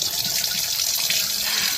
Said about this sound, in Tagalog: So atong butangan og tubig ni guys ha.